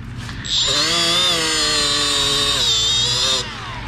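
A power tool grinds buildup off a hard metal surface during a subwoofer surround replacement, a steady high whine with a strong harmonic tone lasting about three seconds, starting and stopping abruptly, close and loud with no talk.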